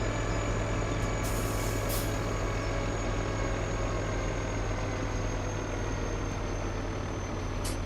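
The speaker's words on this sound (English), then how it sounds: "Notice I very gently apply the brakes on that" Oshkosh heavy hauling truck rolling along with a steady, loud engine drone under gentle braking, with a couple of brief hissy bursts near the start and no talk.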